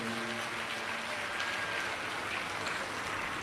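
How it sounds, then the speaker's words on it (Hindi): A large congregation at a Shiv Mahapuran katha claps to welcome the host family. The applause is a continuous, rain-like wash of many hands, steady and somewhat distant throughout. "एक बार यजमान परिवार के लिए जोरदार ताली बजाकर स्वागत, वंदन, अभिनंदन"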